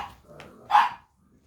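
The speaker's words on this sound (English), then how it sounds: "Please stop barking." A dog barks once, loud and close, in a garage workshop where an RB20DET engine is being stripped, with a short low growl or whine just before the bark.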